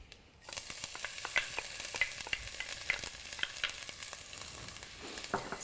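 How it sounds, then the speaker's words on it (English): Mustard seeds crackling in hot oil in a pan: after a brief quiet start, a rapid scatter of sharp, irregular pops and snaps rises over a soft frying sizzle, close and lively for several seconds. "Kick it off, and mustard seeds. They are going to pop."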